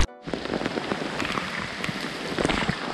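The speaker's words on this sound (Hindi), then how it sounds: "तो बारिश फिर से बढ़ गई है" Heavy rain pours down near a bridge over a river during monsoon travel, a dense steady hiss of drops striking surfaces close by, with no talk.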